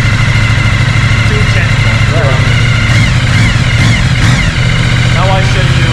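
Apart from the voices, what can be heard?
motorcycle engine idling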